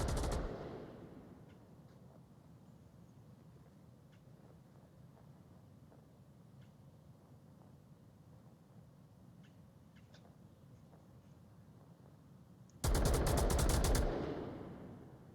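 Players fire guns onto a hangar in the VR shooter Onward; a loud burst opens, then a quiet stretch of faint distant pops, and a dense, loud volley of rapid fire breaks out near the end.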